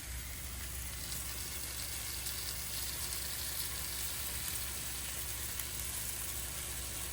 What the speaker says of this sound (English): Let that toast a little bit on that fresh butter we just put in there.